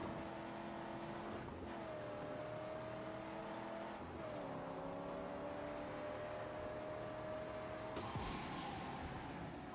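A car driving through Gas Town in the Mad Max video game, its engine holding a steady drone with shifts in pitch as it changes gear, loud and continuous throughout.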